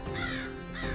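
Crows caw twice in quick succession, harsh and fairly close, in a brief outdoor moment.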